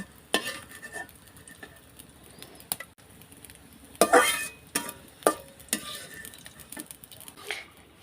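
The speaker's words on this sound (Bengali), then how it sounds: "আমি আরও একটু দুই এক মিনিট ভেজে লাল লাল আরও বেশি একটু লাল লাল করে নেবো পেঁয়াজটা" Onions fry in a pan in a village kitchen, a faint sizzle broken by sharp scrapes and clinks of stirring at irregular intervals, with birds calling faintly in the background.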